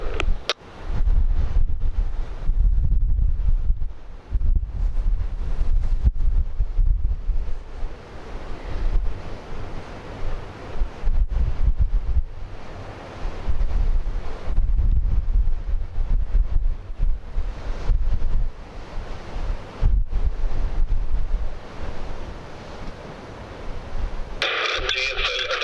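Wind and breaking waves at sea on a wet, windy day off Point Lonsdale, a steady roar of surf with buffeting wind noise on the microphone, continuous and loud throughout.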